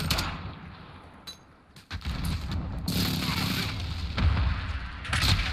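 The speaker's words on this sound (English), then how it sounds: "Enemy precision airstrike." Video-game precision airstrike arriving as a burst of booming explosions and rumbling impacts, fairly distant and muffled, building after a brief lull.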